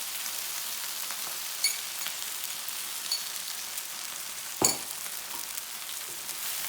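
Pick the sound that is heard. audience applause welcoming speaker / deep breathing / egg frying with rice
egg frying with rice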